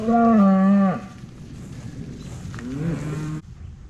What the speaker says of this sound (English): These are some nice looking cattle.